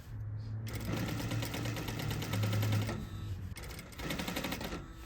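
A sewing machine stitches bias binding onto a corset edge, a close, rapid, even mechanical chatter that runs for a few seconds, pauses briefly, then resumes.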